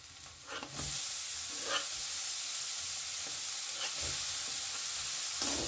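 Grated cabbage and carrot stir-fry with a little green chilli for Manchow soup, sizzling steadily in a hot pan after the vegetables drop in, with a few stirring scrapes; continuous, close and fairly loud, no talking.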